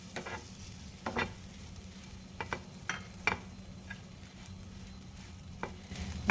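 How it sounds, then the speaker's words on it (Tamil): Bread pieces fry in butter in a pan, a soft steady sizzle under repeated scraping and stirring strokes from a utensil, close and fairly quiet, with no talking. "ஃபஸ்ட்டு பட்டர் சேர்க்குறேன். அதில் இந்த ப்ரெட் பீஸஸை போட்டுடுறேன்."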